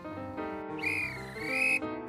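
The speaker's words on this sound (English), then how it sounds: "the guard blew his whistle" A train guard's sharp, sustained whistle blast rises and bends in pitch for about a second, ringing clearly over a low background hum.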